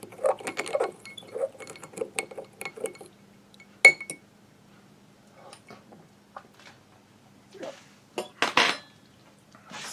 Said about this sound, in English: It's like you have to use a fork to kind of take it out, like so. You just kind of have to stir it up.